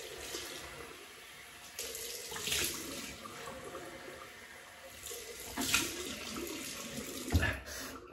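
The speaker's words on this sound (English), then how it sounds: "So we'll just rinse cold water." Cold tap water runs and splashes steadily into a sink, with louder gushes as a razor is rinsed under the stream.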